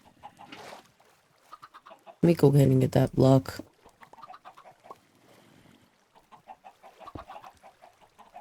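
Chickens near a farm in the Minecraft video game cluck in short, loud bursts, with someone talking quietly before and after them.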